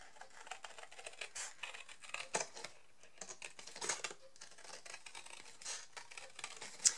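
Scissors cutting a circle out of very thick paper of roughly 220 gsm, heard as dense, irregular crisp snips and rasping crunches that run almost continuously, close and fairly quiet, with no talking.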